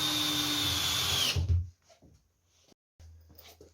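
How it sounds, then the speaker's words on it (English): A power drill drives a screw into a wooden quarterpipe with a loud high whine for just over a second, then stops, leaving a few soft knocks and handling sounds close by. "Then we can just prime the rest of the screws"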